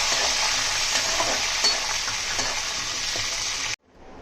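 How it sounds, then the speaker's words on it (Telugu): Green chillies frying in hot oil, a steady close hiss and sizzle with faint stirring scrapes, cutting off abruptly near the end. "ఇవి కూడా బాగా వేగిపోవాలండి."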